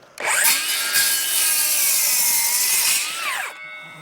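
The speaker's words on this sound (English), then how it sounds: "this saw is absolutely brilliant" A handsaw rasps through timber for a decking frame, a steady, close stroke that runs for about three seconds without pause before stopping, with no talk over it.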